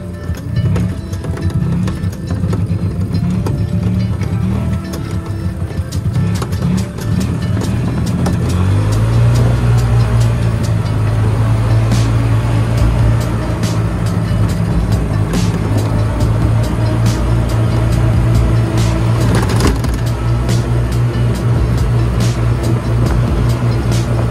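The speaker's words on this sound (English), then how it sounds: "here's the wide angle shot of me driving the golf cart." A custom Broncos golf cart drives steadily along near a golf course, its motor humming loud and close with a continuous drone that deepens partway through, accompanied by rattles and wind noise, with no talking.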